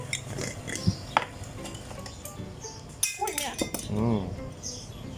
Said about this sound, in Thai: ช้อนหลุดมือ